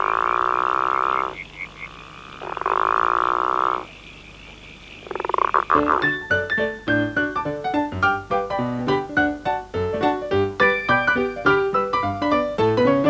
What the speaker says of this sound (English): it enables you to send frog croaks